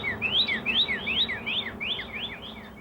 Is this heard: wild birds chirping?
yes